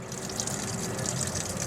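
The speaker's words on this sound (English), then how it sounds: "Here the water goes." Coolant water pours and trickles steadily out of a 2006 Cadillac DTS engine near the thermostat housing during water pump work, a continuous close splashing flow without a break.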